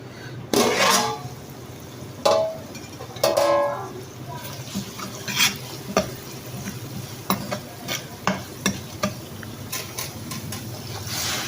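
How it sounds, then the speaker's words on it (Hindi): A spoon stirs mash daal in a pot, scraping in short, uneven strokes close up, over a faint sizzle of cooking. "चम्मच चलाते रहेंगे इसमें।"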